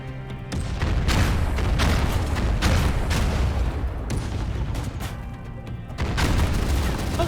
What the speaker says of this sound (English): Oh, it's just a rocket.